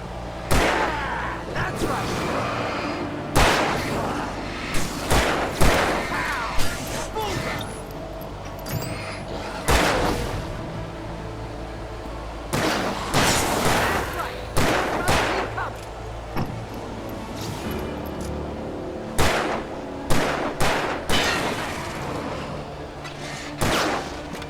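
Gunfire in the video game Alan Wake: loud, sharp shots ring out repeatedly in irregular bursts over a low ambient hum, close and punchy with gaps between volleys.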